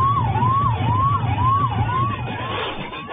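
An ambulance siren sounds on a road blocked by a dancing wedding procession in Damoh, its wailing up-down tone repeating steadily over a low traffic hum and fading slightly near the end.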